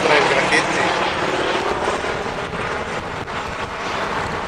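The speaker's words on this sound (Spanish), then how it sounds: "Parece que el helicóptero de la policía anda buscando a alguien." Police helicopter passing over a Los Angeles alley, its rumbling rotor wash filling the air as a steady, fairly close drone, with someone speaking over it.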